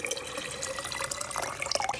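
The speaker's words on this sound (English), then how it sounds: "we are going to add our water" Water poured through a funnel into a container, filling toward an 8-cup line for making acidophilus from sprouted wheat berries; a quiet, steady trickle and splash with a few drips near the end.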